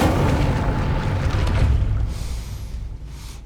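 An Incendio fire spell cast in Hogwarts Legacy bursts with a loud low whoosh and rumbling boom that fades over a few seconds.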